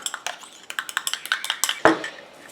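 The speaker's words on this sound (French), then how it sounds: "Et je mélange." Rose anti-aging serum being stirred in a small container, a rapid series of sharp clinking taps of utensil against the vessel, close and clear, ending in a louder knock.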